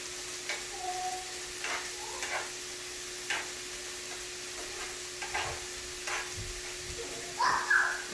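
Onions for tacos sizzle in a frying pan, a soft steady crackle with occasional scraping stirs and clicks of a utensil against the pan, close but fairly quiet, with no talking.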